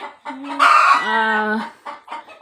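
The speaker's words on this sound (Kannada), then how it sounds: "ಕೋಳಿ ಬೇರೆ ಕೂಗ್ತಾ ಇದೆ" A rooster crows once, close and loud, at a village grandmother's house, its long drawn-out call rising and holding before trailing off into a few shorter clucks.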